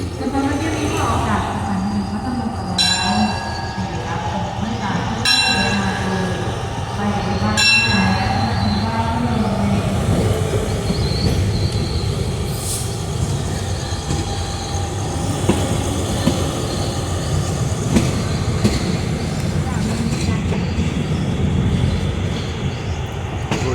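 A train idles and rolls at Phatthalung railway station in Thailand, with a heavy low rumble, several sharp metallic squeals and clanks, and people talking over the steady noise.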